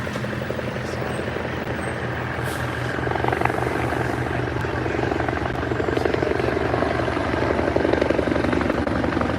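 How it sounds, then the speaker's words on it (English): A low-flying security helicopter over the South Lawn of the White House, its rotor drone loud, steady and continuous throughout with a faint rhythmic chop. "That's the security helicopter that's scanning the area for the entrance of Marine One."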